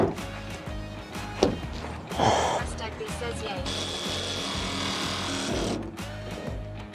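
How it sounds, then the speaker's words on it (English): Sheet metal being cut out of a Ford Transit Mk8 van side panel for a window, a close, harsh rapid chattering of a power tool running steadily with grinding scrapes as the blade moves through the panel. "as I'm cutting out quite a heavy, sharp piece of metal"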